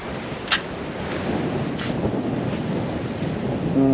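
Sea waves wash against a seawall along the coast near Chilaw in Sri Lanka, making a steady broadband surge mixed with wind noise. There are no voices.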